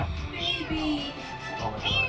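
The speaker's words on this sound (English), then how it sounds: "They managed to get the kitten to respond by meowing at him." A trapped kitten meowing from inside a pipe during a rescue, several thin, close mews in quick succession, fairly quiet.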